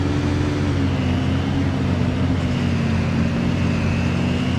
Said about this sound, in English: Oh, it's a truck that got stuck.